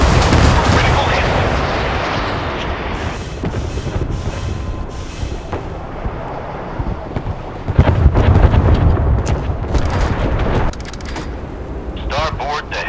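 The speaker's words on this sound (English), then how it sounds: "Missiles launched! Critical hit!" Warship missile launches and hits in the naval video game Force of Warships, loud booming blasts and rumbling explosions in bursts over a low steady background, with game voice callouts heard between them.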